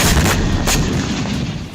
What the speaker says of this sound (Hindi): हिजबुल्लाह ने तेल अवीव में एक के बाद एक कई विस्फोट किए।